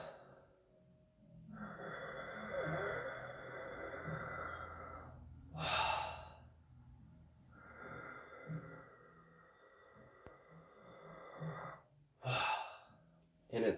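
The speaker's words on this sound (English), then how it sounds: "breathing in like from the back of your throat" Deep breaths drawn in from the back of the throat come as several long, raspy, close-up inhales, broken by sharper, louder bursts of air.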